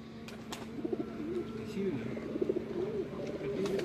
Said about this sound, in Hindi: सारे कबूतर ही माशाल्लाह इनके जोन से हैं